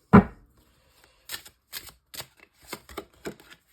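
Tarot cards are drawn from a deck: one sharp thump, then a string of quick, papery flicks and slides in an uneven rhythm, close and fairly quiet, with no talking.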